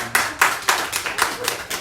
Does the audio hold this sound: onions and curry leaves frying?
no